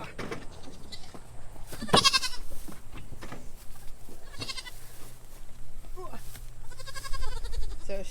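Kid goats and their mothers bleating on a farm, several loud, wavering cries spaced across the scene, close by, with people talking in between.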